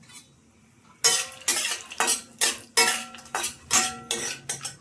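Almonds roasting in two tablespoons of ghee in a pan for a healthy chivda, stirred with a utensil: after a second of quiet, a run of about eight sharp scraping, clattering strokes close by, with no talk.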